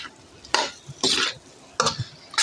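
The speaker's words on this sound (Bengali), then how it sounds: "আলু আর করলাটা ভালো করে আপনারা মিক্স করে নেবেন" A spoon stirs potato and bitter gourd frying in a pan, giving a few distinct loud scraping, sizzling bursts at uneven intervals with quieter frying between, no talking.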